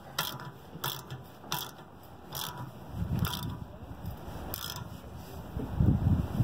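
A ratchet tensioner is tightened on a mobile home tie-down strap, giving about seven sharp, close ratcheting clicks at a steady pace. Low mechanical creaks and thumps from the strap pulling in sound between the strokes.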